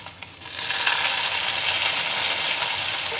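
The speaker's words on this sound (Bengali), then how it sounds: "আদাটা একটু ভাজা হবে" Grated ginger sizzles in hot oil in a pan while a home cook makes green moong khichdi. After a brief quiet start, a steady, bright frying hiss sets in and holds at an even level to the end.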